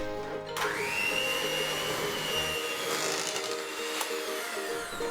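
An electric mixer whirs steadily as it beats a cake mix of egg yolks and melted chocolate for a Black Forest gateau, a loud continuous motor drone that starts abruptly and holds at an even pitch.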